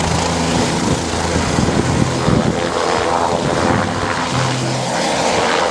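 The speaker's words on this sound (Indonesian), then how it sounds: "ada juga helikopter berwarna merah. Widih, ini helikopter pemadam." A red fire-fighting helicopter fills the air with a steady, loud broadband rotor and engine roar that holds constant throughout, with a low rhythmic beating underneath and no voices.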